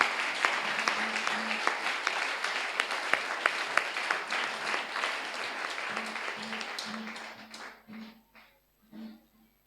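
Church congregation clapping along in worship, a dense run of hand claps with sharp individual slaps, fading and thinning toward the end as a few voices come through.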